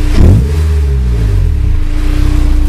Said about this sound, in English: I can rev it up in the garage